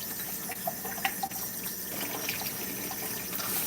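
Collard greens being rinsed under a running kitchen tap, a steady stream of water splashing into the sink with small shifting splashes as the leaves are handled.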